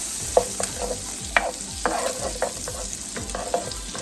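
Red peppers sizzle steadily in a buttered, seasoned pan, the frying hiss running throughout while a spoon stirs and scrapes with intermittent clacks against the pan.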